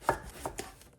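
A knife slicing thin pieces of aubergine on a board, three or four quick, crisp cuts in an even rhythm, close and fairly quiet, with no talking.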